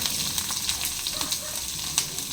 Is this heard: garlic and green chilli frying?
yes